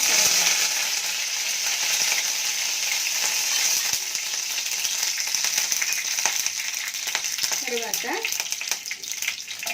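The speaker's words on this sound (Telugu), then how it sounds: "ఆవాలు చిట్పట్లాడిన తర్వాత" Mustard seeds splutter in hot oil with a dense, continuous frying crackle and hiss, loud and close, while a voice murmurs briefly near the end.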